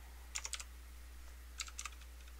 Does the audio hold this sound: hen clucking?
no